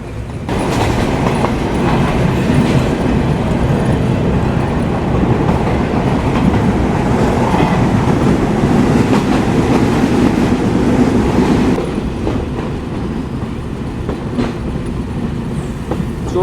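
Benapole Express passenger train rolls along the rails in Bangladesh, a loud, dense rumble with rhythmic clickety-clack of the carriages, easing slightly toward the end.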